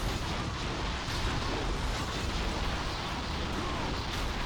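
Fire, explosions and clanking gear sounds from the game Castlevania: Curse of Darkness form a dense, continuous, roaring wall of noise with repeated booms and bursts, loud throughout, and no one speaks.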